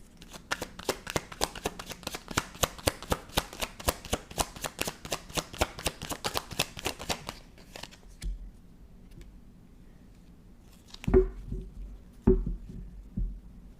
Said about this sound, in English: Let me just pull a card.